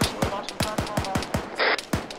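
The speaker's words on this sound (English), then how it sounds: "50 cal is currently shooting, though." .50 cal machine gun fire in ArmA 3, a rapid, evenly spaced string of heavy shots at close range, with a brief hiss partway through and voices talking under the bursts.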